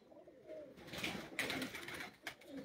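Flying pigeons on a rooftop give soft, low cooing calls close by, a few brief coos over faint background noise, without talk.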